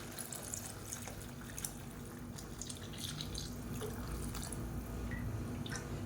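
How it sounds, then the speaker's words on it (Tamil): Mixed liquid poured into a pan of sautéed tomato curry, a steady close watery pour and splash running continuously with faint drips, no talking. "இப்போ நம்ம கரைச்சி வச்சுருக்கிறத சேர்த்துக்கலாம்"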